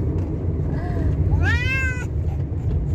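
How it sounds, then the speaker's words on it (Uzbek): A black cat meows once, a single drawn-out rising and falling call, close and fairly loud over a steady low rumble of traffic or engine noise, with no talking. "itga o'xshab qilyaptimi ko'p miyovlayaptida"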